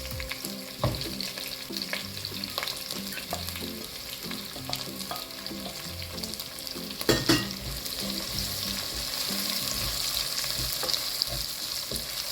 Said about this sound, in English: And we have to stir fry